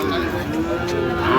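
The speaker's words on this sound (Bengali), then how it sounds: "শাহিওয়ালের ষাঁড়।" A young Sahiwal bull calf of about five or six months moos loudly and close in a continuous low call at a busy cattle market, with faint voices in the background.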